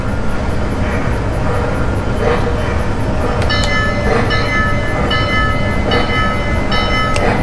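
A Lionel model train running around a layout after a remote turnout is switched, a steady loud rumbling roll with whining tones, and someone talking over it.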